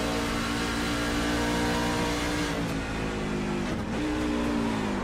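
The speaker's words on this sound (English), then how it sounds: "We'll go on board here with Lannis, see if the sounds of the race car tell a different story" An on-board race truck engine roars loudly and continuously at Motegi during a PSRA Truck Series race, holding a high pitch with brief dips on downshifts.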